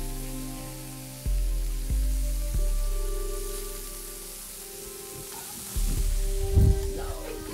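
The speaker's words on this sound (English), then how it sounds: "Onions and peppers on the side and let them start sauteing also" Onions and peppers sizzle in a hot pan with a steady crackling hiss, a few thuds and clatters as they're stirred around.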